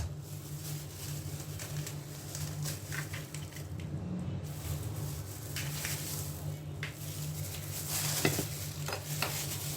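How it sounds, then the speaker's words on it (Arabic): Chicken wings frying in a pan, a soft continuous sizzle with light crackles and occasional stirring scrapes, fairly quiet and steady with no talking. "ابتدي اقلي الفراخ"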